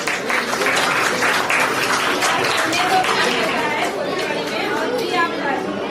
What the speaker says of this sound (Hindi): जोरदार तालियां होनी चाहिए मैडम के लिए।